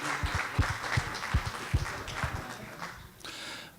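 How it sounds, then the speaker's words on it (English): Audience applause at a public event on sea level rise and groundwater in Palo Alto: scattered, moderately loud claps from a small crowd that thin out and fade after about three seconds. "And have some applause."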